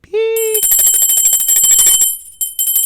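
A bright bicycle-style bell dings once, then rings in a rapid rattling trill for about two seconds before a short second ring, loud and clear, used as a notification bell sound effect.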